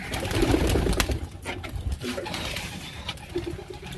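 Pigeons coo steadily and close by, their low burbling calls repeating over a busy background with rustling and muffled movement.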